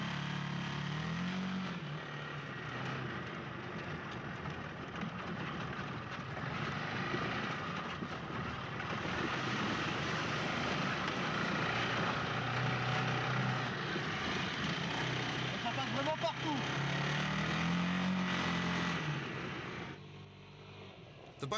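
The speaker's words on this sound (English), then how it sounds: "The 38 horsepower engine offers plenty of power with speeds of up to 120 kilometers per hour." A PGO Bug Racer 500 all-terrain buggy with a 38 horsepower engine drives steadily, its engine droning at a constant level throughout with faint wind noise and no clear revving peaks.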